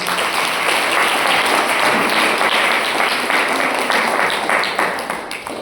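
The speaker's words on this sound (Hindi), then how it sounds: "एक बार फिर से इनके लिए हम लोग तालियां बजाएं।" A church congregation at a live Hindi preaching service claps together in sustained, dense applause, loud and close, with no voices over it before it begins to thin at the end.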